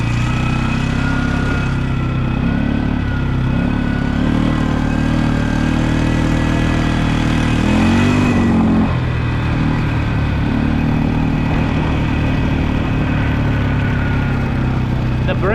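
An old truck with failing brakes idles steadily with a low, rough rumble, swelling briefly into a rev midway before settling back to a continuous chug, heard up close.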